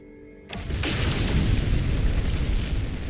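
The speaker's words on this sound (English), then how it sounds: "Whoa, that was a huge explosion." A huge explosion in No Man's Sky bursts in suddenly after a quiet moment, a loud booming blast followed by a long rumbling roar that stays heavy without fading.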